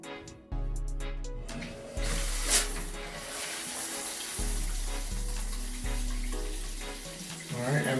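Water runs through a newly installed shower filter and shower head in a steady, hissing spray, while low tonal pulses and intermittent rumbling sit beneath it.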